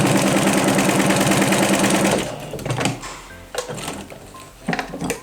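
A sewing machine stitches a patchwork foundation piece along the line in a fast, even, rhythmic run for about two seconds, then stops, leaving only soft handling clicks and rustles of fabric.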